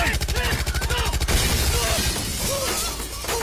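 Rapid gunfire bursts out in a movie scene as a wheel is shot, a fast volley of sharp cracks followed by a shattering crash and lingering debris noise.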